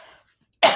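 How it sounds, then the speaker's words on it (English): A single sharp, close cough bursts out after a moment of near silence during the unboxing of a 2025 Hobonichi Techo Cousin planner, with faint room sound before it. "I'm sorry I coughed all the way through this"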